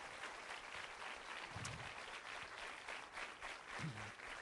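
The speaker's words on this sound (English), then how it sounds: "Please give them a big round of applause" Audience applause for the hosts at a campaign rally, a steady, distant wash of clapping held at an even level throughout.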